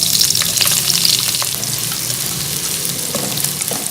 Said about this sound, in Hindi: जैसे ही घी गर्म हो, इसमें राई दाना और मेथी दाना ऐड करें। इसे 1 मिनट फ्राई करें।